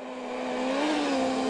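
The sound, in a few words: World Rally car engine revving on snowy rally stage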